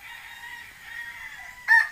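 A rooster crows, a long drawn-out call ending in a couple of sharper, louder bursts near the close, with no other sounds around it.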